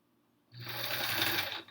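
A sewing machine stitches rows of a Triangle Tango quilt, starting abruptly after a quiet moment and running in a close, steady whirring buzz to the end.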